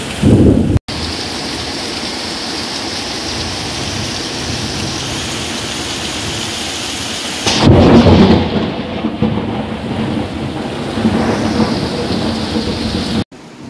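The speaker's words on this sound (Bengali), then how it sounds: "বাবা কি জোরে জোরে বাজ পড়ছে।" A heavy thunderstorm: loud, continuous rain pounding on surfaces with deep rumbling thunder, including a strong crack and roll midway, all near and intense with no voices.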